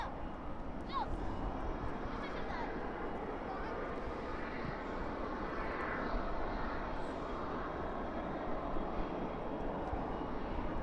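A British Airways Airbus A380 jet at night at Dallas/Fort Worth airport, its engines giving a broad steady roar that holds throughout from a moderate distance, with faint background noise.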